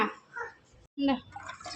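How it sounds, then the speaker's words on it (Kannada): Water pours and splashes onto potted garden plants in a brief, close burst, broken by a short gap, with voices talking nearby, including a child. "ಗಿಡಕ್ಕೆಲ್ಲ ನೀರು ಹಾಕ್ಕೊಳ್ಳೋಣ"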